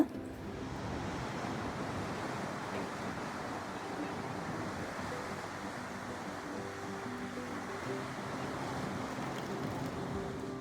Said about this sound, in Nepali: यो चाहिँ मैले देखेको समुद्रहरूमा one of the beautiful waves भएको समुद्र जस्तो फिल भयो